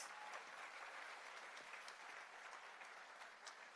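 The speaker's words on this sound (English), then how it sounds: "I think you have to clap louder for our farmers." Faint, distant applause from an audience at the grand opening of a poultry processing plant, a steady wash of many hands clapping with no voices over it.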